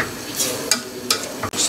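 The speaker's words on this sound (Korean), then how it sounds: "김치를 이렇게 좀 꽤 볶다가" Kimchi stir-fried in a pot makes a steady sizzle, with several scraping stirs of the utensil against the pot, close and alone.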